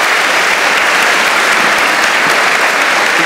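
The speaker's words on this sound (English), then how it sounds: "quick round of applause for the little discussion we had there." A seated audience claps after a conversation event, a steady, loud, continuous round of applause with no talking over it.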